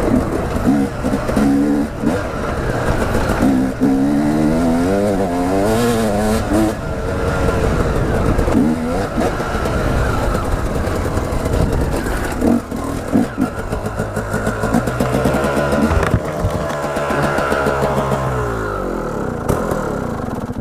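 A motorcycle engine runs loudly and close throughout, its pitch rising and falling as it revs and clatters, while the rider talks and shouts over it.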